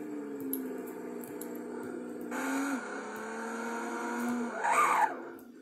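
Car driving in the Roblox-style video game Driving Empire, a steady engine drone with tonal whine that swells and shifts pitch, brief squeals near the end, heard alone without talk.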